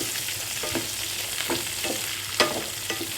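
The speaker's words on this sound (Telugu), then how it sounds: "వేసి బాగా వేయించండి" Cashews fry over low heat in a pan, giving a close, steady sizzle broken by brief stirring scrapes and small pops, with no talking.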